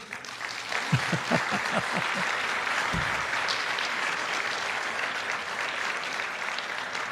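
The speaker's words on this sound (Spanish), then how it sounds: "Un aplauso por el amor de Dios." An audience bursts into sustained applause, a dense wash of clapping that holds steady for several seconds, with a few louder claps near the start.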